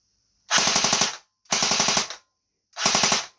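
A Cyma CM.028 AK-47 airsoft gun fires on full automatic in three short close bursts, each a rapid mechanical rattle of about eight shots, separated by brief silences.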